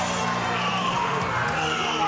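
A crowd of fans at a Totteridge fight event cheers and roars as a Scottish fighter walks out to the ring, a dense continuous wall of noise with children shouting mixed in.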